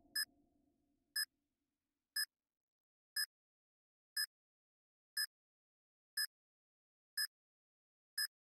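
Planted bomb in a Call of Duty Search and Destroy round on the Tunisia map, beeping steadily with short, bright, evenly spaced chirps about once a second, with a brief murmur of background noise before the first beep.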